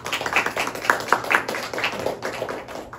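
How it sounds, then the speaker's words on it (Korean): Congregation clapping during a church worship service, a dense, steady patter of many hands that lasts throughout with no speech over it. "하나님께 우리 영광의 박수 올려드리겠습니다"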